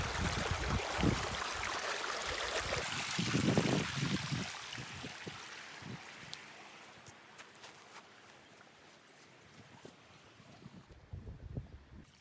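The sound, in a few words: river flowing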